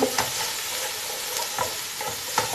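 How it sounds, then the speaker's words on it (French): Mushroom sauce cooking in a pan, being stirred with a spoon: a continuous bright sizzle with several scraping strokes close by. "Plus qu'à tout mélanger ensemble."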